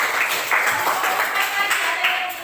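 A classroom of students claps for a student group, a short burst of close, slightly uneven clapping with voices mixed in.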